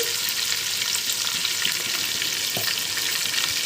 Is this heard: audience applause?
no